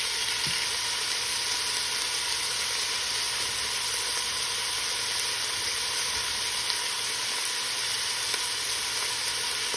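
Onion and garlic fry in a pan for pork adobo with potato, giving a loud, steady, unbroken sizzle up close for the whole stretch, with no talk.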